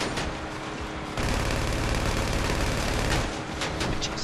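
Rapid gunfire in Grand Theft Auto V Online, aimed at a pursuer, a dense continuous burst of shots that thickens after the first second and then thins into a few scattered reports.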